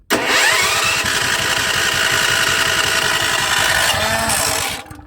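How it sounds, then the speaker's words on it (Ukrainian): Petrol generator starting in freezing winter cold after a year standing idle, the engine catching and running loud and steady in a close, rapid chugging rhythm before cutting off. "після річного простою, е, заводимо генератор"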